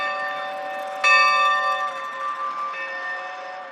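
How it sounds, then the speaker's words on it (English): A railroad bell hanging near the entrance of the Martin and Frances Lyons Railroad Museum in Brownwood, Texas, is struck once, loud and close, its bright metallic tone ringing on and slowly decaying, with a faint second ring near the end. "A railroad bell hangs near the entrance. If you're there, you have to ring it."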